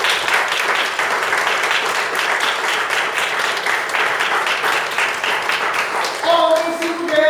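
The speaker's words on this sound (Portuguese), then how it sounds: "Dê uma salva de palmas a Jesus" A church congregation claps for Jesus during a service, with dense sustained applause that fills the room, steady and loud throughout before music or a voice rises at the end.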